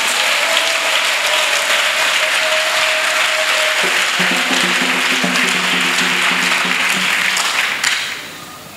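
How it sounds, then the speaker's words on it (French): Loud, sustained applause from a large audience at a church gathering honouring the nation of Benin, dense clapping filling the room with a musical tone underneath, before fading out at the end. "que je voudrais qu'on acclame très fort"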